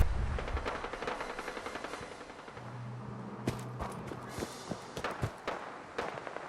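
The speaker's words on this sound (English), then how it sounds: "Yeah, I tend to run towards gunfire." Gunfire in a video game: a quick series of sharp shots and short bursts at a moderate distance, popping irregularly over a low ambient rumble, with no talking.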